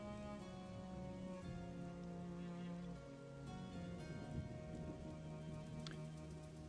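Rain falls steadily outside near a garden, a dense, even patter of drops on surfaces that stays constant throughout, with a low rumbling hum underneath and no voices.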